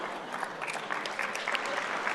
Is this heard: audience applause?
yes